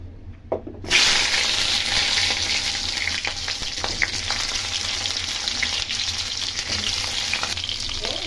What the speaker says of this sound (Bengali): তেল বসে দিচ্ছি কড়াইতে, আগে পটলটা একটু ভেজে নেব।